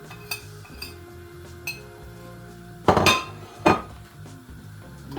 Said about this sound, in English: And make sure that everything is stirred up, well seasoned inside.